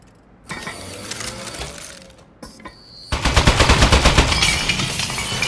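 A turret in the Aperture Desk Job game fires a rapid, loud mechanical stream of shots, starting with lighter rattling and then surging into a dense, sustained burst.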